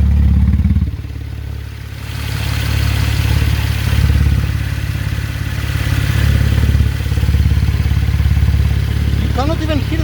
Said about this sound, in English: Both, I want to hear the engine.